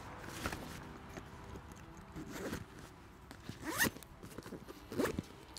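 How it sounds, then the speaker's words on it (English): Large lockable YKK zips on The North Face Rolling Thunder 30-inch wheeled luggage being pulled, several quick close rasping zipper runs in sequence with no talking. "You've got really nice big YKK zips as well, which are again lockable, but also just really durable."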